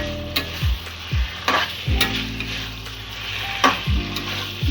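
Young jackfruit fries with spices in a pan, a bright steady sizzle punctuated by several clear spoon taps and scrapes against the metal at irregular intervals, with no talking.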